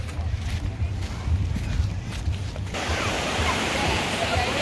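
Surf at Misquamicut Beach, Rhode Island rolls in as a broad wash of noise that swells louder midway, with low wind rumble and no clear speech.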